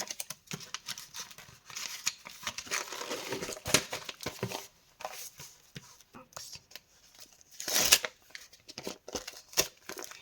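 Soft plastic packets crinkle and rustle in short bursts, close by and fairly quiet, with a sharper crackle near the end.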